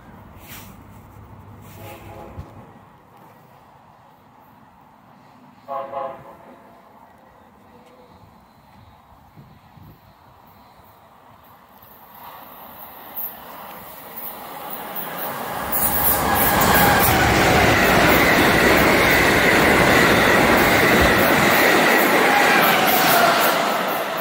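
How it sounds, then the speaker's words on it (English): Acela train passing Fairfield Metro station on the New Haven Line: quiet platform sounds and a brief voice give way to a building rumble, then a loud sustained rushing roar with high whine as the train sweeps by close. "Here comes the Acela."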